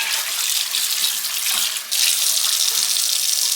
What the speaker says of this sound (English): I'm just going to take this iron skillet and I'm just going to rinse it out real quick